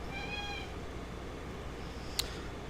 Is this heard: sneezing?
no